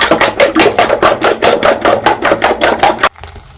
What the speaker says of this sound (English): Then I'll beat my egg up.